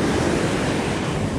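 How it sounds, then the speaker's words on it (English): Ocean waves break and wash onto a Central Coast beach during surf fishing, a loud, continuous roar of surf with wind across the microphone and no speech. "Yeah, these waves are sneaky."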